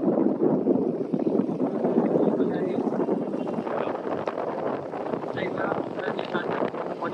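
Strong wind buffets the microphone at a hill viewpoint in Lonavala, a loud continuous rumbling roar throughout, with people speaking faintly beneath it.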